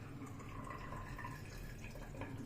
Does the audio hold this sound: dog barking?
no